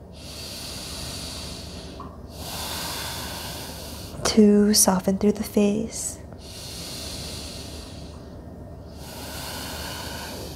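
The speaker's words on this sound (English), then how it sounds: "Deep breathing" Deep, audible breathing during yoga sun salutations comes as a short cluster of strong snorting inhales and exhales in the middle, set between stretches of soft music and a calm instructor's voice.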